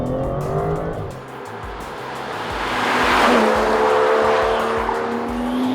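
A 2019 Aston Martin DBS Superleggera engine roars loudly outside, revving and climbing in pitch with a rising whine, tires briefly squealing, then holding a steady high growl.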